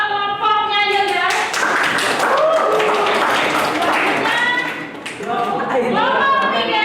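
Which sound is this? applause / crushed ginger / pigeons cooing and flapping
applause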